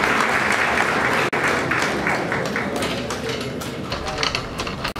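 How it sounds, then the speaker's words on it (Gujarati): Audience applause at a Gujarati ghazal award ceremony, a sustained dense clapping from a crowd that swells and thins slightly over a few seconds. "તાળીઓના અભિવાદન સાથે આપણે તેમને આભાર કરીશું"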